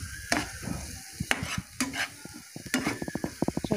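Spices stir-fried in oil for an egg and potato curry, close crackling sizzle with scattered scraping strokes, ending in a quick run of rhythmic spoon taps against the pan.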